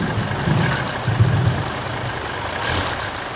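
A car engine idles steadily up close, a low rumbling drone with slight uneven pulsing, heard on its own without talking.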